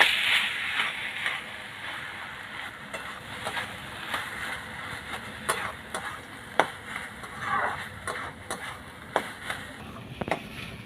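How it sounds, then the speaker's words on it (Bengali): Mashed potato stirred and fried in a pan for a vegetable chop filling, with a soft steady sizzle under repeated scraping and knocking strokes of a spatula, heard up close. "আলুটা দিয়েও ভালো করে কষে নিয়েছি।"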